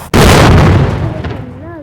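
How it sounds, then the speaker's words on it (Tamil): A rocket explodes in the Indian Bikes Driving 3D game: a sudden loud boom that bursts in and rumbles for over a second before fading, with a brief tonal sound trailing at the end. "அதுக்கப்புறம் அது வந்து வெடிக்கும்"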